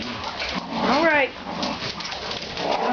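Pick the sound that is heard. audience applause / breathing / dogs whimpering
dogs whimpering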